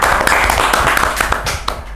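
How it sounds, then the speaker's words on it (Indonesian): Studio audience clapping to welcome guest Rivaldo onto an Indonesian talk show, a steady patter of hands with sharp individual claps, close and fairly loud, running the full length with no talk over it. "Tepuk tangan untuk Rivaldo, teman-teman."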